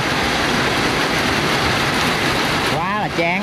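Steady rain hisses loudly and without a break throughout, a dense wash of noise, and a voice begins talking over it near the end.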